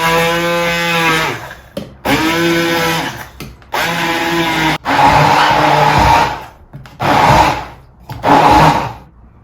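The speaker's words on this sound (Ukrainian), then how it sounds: "буду перебувати його блендером" A blender purees beetroot in repeated bursts, its motor pitch rising and falling as it grinds, with short pauses between runs, loud and close.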